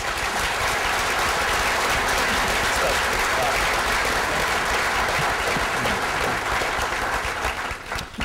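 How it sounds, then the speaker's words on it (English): Loud, sustained applause from a breakfast event audience for a business panel in Wilmington, dense clapping filling the room throughout and tapering slightly at the end. "Will we please have a round of applause for the panel?"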